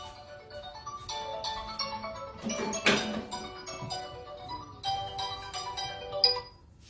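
A mobile phone ringtone plays a repeating melodic tune, moderately loud and nearby in a quiet room, and stops just before the end.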